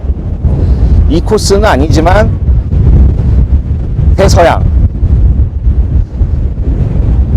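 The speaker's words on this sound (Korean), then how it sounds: "바람 소리 들리시죠?" Strong wind roars and buffets the microphone continuously on the deck of a cruise ship crossing the Atlantic Ocean, with someone speaking over the gusts.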